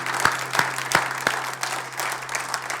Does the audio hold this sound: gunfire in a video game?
no